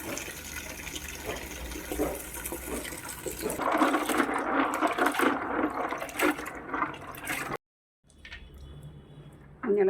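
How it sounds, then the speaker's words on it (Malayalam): Dried chillies are swished and rinsed in a second batch of water, a close, continuous sloshing and splashing that grows busier midway before stopping abruptly, followed by faint handling sounds. "ഇത് രണ്ടാമത്തെ വെള്ളമാണ് കഴുകുന്നത്"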